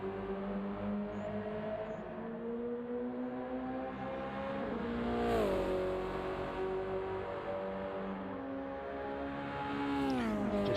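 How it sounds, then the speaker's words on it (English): A Subaru BRZ race car engine roars and revs continuously on track, pitch climbing and dipping through gear changes, loud and steady with no talking. "just hear that car roaring up in towards 130R here on the outlap."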